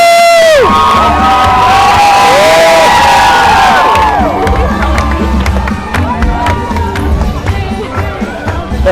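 A huge crowd cheers and whoops loudly at the final Main Street Electrical Parade, a constant roar of shouting voices and children's screams up close, with scattered whistles and excited yells continuing throughout.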